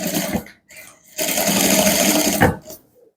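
Sewing machine stitching a welt pocket on chinos, loud and close in short bursts: a brief run, a pause, then a longer steady whir that stops abruptly, with a faint voice nearby.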